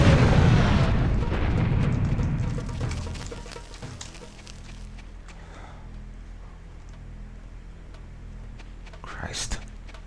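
A detonated explosion in the Serious Sam HD video game booms loudly at the start, then rumbles and fades over several seconds into a quieter background with scattered faint pops.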